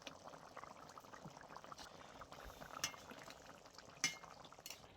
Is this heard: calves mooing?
no